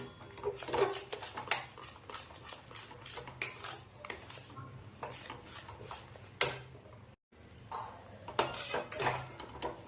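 Spoon stirring besan batter in a pan for thapi vadi, with repeated scraping and clinking of utensil against metal in a steady rhythm, close and moderately loud, with no talk.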